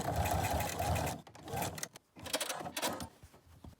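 A home sewing machine top stitches a fabric face mask with a pressed-in nose wire, running steadily up close, then breaking into short stop-start bursts and clicks before a final stretch of stitching.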